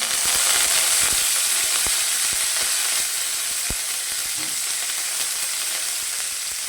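Curry leaves crackle and sizzle in hot oil while tempering for sambar, a steady loud frying hiss with scattered sharp pops throughout, no voices.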